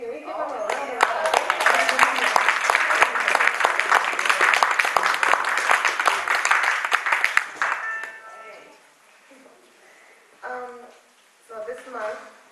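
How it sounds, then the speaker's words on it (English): Audience applause from a morning school assembly honoring children, a dense burst of clapping for several seconds that fades out, followed by a few quieter sounds. "Can we give them a round of applause?"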